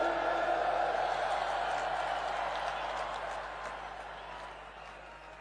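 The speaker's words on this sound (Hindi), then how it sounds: "मैं चाहता हूं हमारे सभी चैनल पार्टनर्स, सभी एम्प्लॉइज और डिपार्टमेंट हेड्स के लिए इतनी जोरदार तालियां हो कि जेएलएन स्टेडियम गूंज उठे।" A large crowd in Delhi's JLN stadium breaks into sustained applause at a silver jubilee event, the clapping loud at first and then slowly fading over several seconds.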